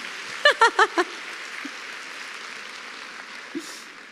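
A women's audience applauds softly at a talk on happiness in marriage. A few loud bursts of laughter come early, then a steady, faint patter of hands continues.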